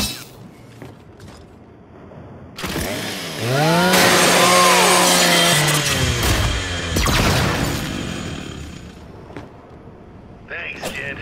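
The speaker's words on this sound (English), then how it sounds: "Just use your Lancer's chainsaw." In the Gears 5 video game, a Lancer rifle's chainsaw bayonet revs up and grinds through a custodial robot, a loud whining snarl rising and falling for several seconds amid metallic clanks, followed by quieter mechanical sounds.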